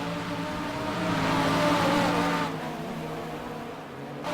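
A Mercedes race car drives past in a TNGT3C racing broadcast, its engine note rising to a loud peak mid-clip and then fading, with steady layered engine drone throughout.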